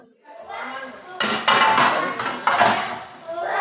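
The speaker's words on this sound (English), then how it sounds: "So I'll just cover the pot now and allow it to" Metal clatter of a lid set onto a cooking pot of vegetable stew, with sharp clanks near 1.2, 1.5 and 2.5 seconds over a steady kitchen background.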